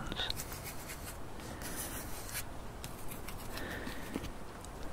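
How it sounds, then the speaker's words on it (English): Pencil scratching and rubbing across paper while working algebra problems at a desk, a steady close, quiet scribbling texture with faint strokes continuing throughout, no voices. "So that you can hear all the good pencil and paper sounds"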